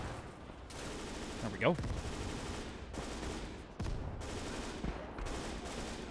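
Gunfire rattles through a Soviet border defense battle in Gates of Hell, with repeated bursts and volleys of rifle and machine-gun fire at mid distance while someone talks briefly.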